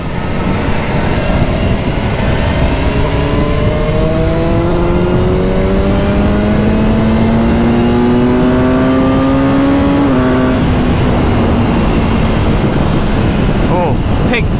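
BMW S1000R motorcycle engine accelerating, a loud steady roar whose pitch climbs smoothly through the revs before a brief cut and drop, heavy wind rush throughout.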